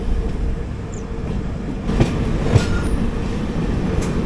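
The Kochuveli–Lokmanya Tilak Garib Rath Express rolls along the rails in a steady, close rumble, with a few faint clacks and brief wheel squeals over the continuous noise.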